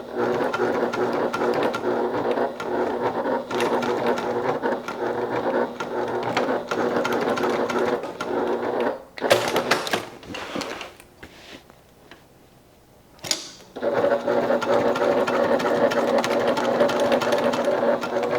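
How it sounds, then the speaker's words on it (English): A sewing machine stitches the straps of a crossbody bag in place, a loud, close, rapid ticking hum that runs steadily, stops briefly with a few handling clicks, then resumes. "we'll go ahead and stitch these in place."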